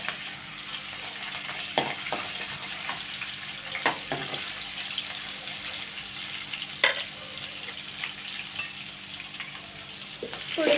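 Garlic paste fries in a pan, a soft steady sizzle broken by a few sharp spits and stirring scrapes, heard close up and fairly quiet.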